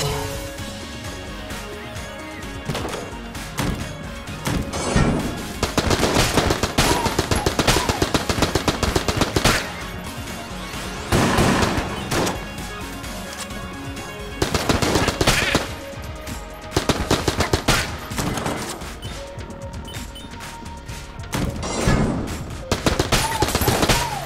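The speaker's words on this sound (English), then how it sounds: "Man, the AK reloads real quick." An AK assault rifle fires in the video game Enter the Gungeon, loud rapid automatic bursts repeating in dense volleys with short pauses between, layered over game sounds, with a brief voice.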